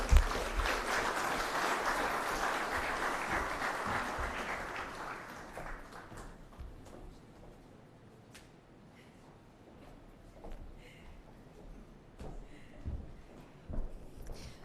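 An audience at the Caribbean Broadcasting Union's annual general assembly opening ceremony applauds Dr. Barnett, a full round of clapping that fades after about six seconds, leaving scattered claps and quiet murmuring.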